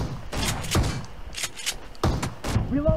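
Gunfire crackles in a PUBG team deathmatch as several bursts of shots ring out at a steady pace, loud and close, with faint game sounds between the volleys.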